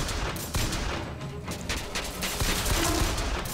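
Gunfire in the BioShock Infinite video game: a rapid, dense volley of overlapping shots and cracks, loud and close, running throughout with no pause.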